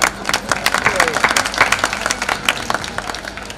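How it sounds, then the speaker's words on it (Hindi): Audience clapping at a Hindi comic poetry gathering, a burst of dense, fairly loud applause from a crowd with claps scattered throughout, fading slightly toward the end. "इसलिए तालियां बजा दीजिए अभी"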